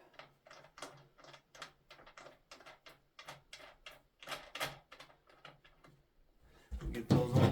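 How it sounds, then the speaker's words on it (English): Bolts on battery terminal connections in a DIY solar charger setup are tightened with a ratcheting tool, a quick run of close, rhythmic clicks ending in a louder clattering rustle. "Get those all nice and tightened up so we don't have any bad connections."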